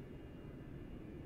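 Steady low engine drone of a Concorde taxiing or flying in Microsoft Flight Simulator 2020, a dense continuous rumble held at even loudness throughout, with no voices.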